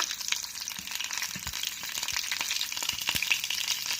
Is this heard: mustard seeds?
yes